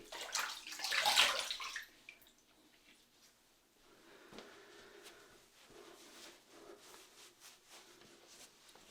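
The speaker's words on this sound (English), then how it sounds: "Okay, let's have a rinse, see how we did." Running water splashes loudly for about a second as a face is rinsed after a shave with a Blackland Era safety razor, then settles into quieter dripping, rubbing and soft water sounds for the rest.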